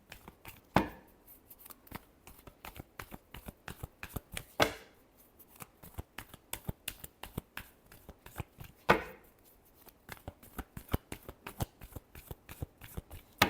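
Tarot cards shuffled by hand in quick riffling bursts, a dense run of crisp flicks and taps with a few louder slaps as the deck is squared, close and alone with no talk.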